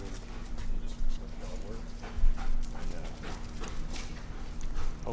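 Police K9 dog panting in quick rhythmic breaths close by, with scattered scuffing and clattering noises and a low steady hum in the background.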